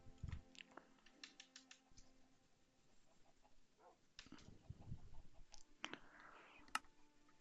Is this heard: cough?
no